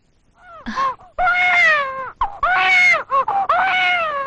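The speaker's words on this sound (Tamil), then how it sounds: "குழந்தை அழுத உனக்கு காது கேட்கல?" A newborn baby girl cries in a hospital setting, loud and close, in a series of strained wailing bursts separated by short catches of breath.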